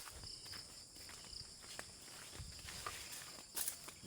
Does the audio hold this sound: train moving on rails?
no